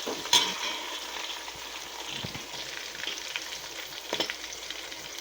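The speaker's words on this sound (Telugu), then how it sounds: "ఇప్పుడు పచ్చిమిరపకాయలు వేసుకోవాలి కట్ చేసి పెట్టుకున్న పచ్చిమిరపకాయలు వేసుకోవాలి కొంచెం వేయించి" Chopped green chilies fry in hot oil in a pan for Guntur Muslim-style chicken biryani, a steady close sizzle with occasional stirring scrapes and no voices.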